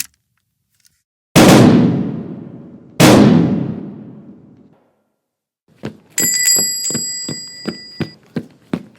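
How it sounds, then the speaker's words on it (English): Two sharp, loud gunshots ring out in a radio drama, each with a long decaying echo, followed by a rapid series of further cracks and ringing metallic tones. "A man has been shot!"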